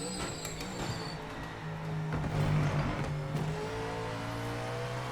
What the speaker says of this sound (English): Oh, this car sounds nice to drive.